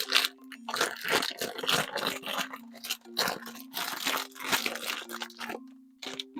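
A plastic bag crinkles and rustles continuously up close, with soft tonal music in the background.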